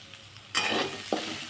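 Spoon stirring samosa potato filling with turmeric as it fries in a pan, a sudden burst of sizzle and scraping after a quiet start, with a second short scrape near the end.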